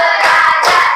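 A class claps a patterned rhythm together in a classroom, a short burst of loud group clapping with no talk.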